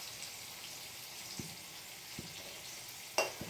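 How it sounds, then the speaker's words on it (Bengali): Potatoes fry in a pan with a steady, soft sizzle as pumpkin is added, and a sharp clack of utensil on pan sounds near the end. "এবার কুমড়োটা দিয়ে দেবো।"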